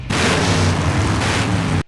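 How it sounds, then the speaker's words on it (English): A big cutscene explosion in the 1995 adventure game Full Throttle hits as one loud, sustained roaring blast of nearly two seconds, then cuts off abruptly. "Now that's an explosion, ladies and gentlemen."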